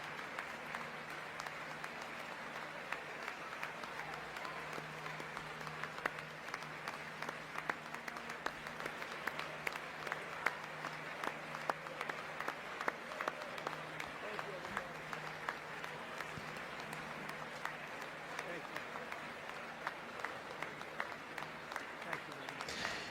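Sustained applause from Republican members standing in the US Congress, a dense continuous patter of many hands that holds steady and fairly distant for over twenty seconds, with a faint murmur of voices underneath.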